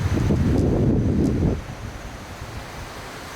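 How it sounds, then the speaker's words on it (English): Wind gusting loudly at a seaside resort by the sea, roaring across the microphone for about a second and a half before dropping to a softer steady breeze with distant surf. "Look at the wind, guys."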